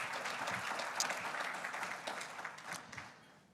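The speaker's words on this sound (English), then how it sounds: "Ladies and gentlemen, give yourselves a round of applause." A conference audience at the Caribbean Maritime University's Industry Conference breaking into applause: a moderately distant wash of clapping that holds steady before tapering off, with no clear speech over it.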